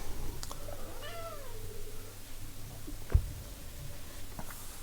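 A pet cat meows once, a short rising-falling cry heard close by over a quiet room hum, followed by a soft thump.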